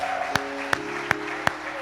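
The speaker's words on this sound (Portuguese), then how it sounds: "dê um aplauso a Yeshua" A church congregation applauds during a Portuguese-language worship service, steady crowd clapping under a sustained musical tone with sharp rhythmic beats recurring about every third of a second.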